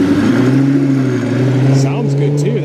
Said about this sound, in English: Sounds good too, that is a Superleggera.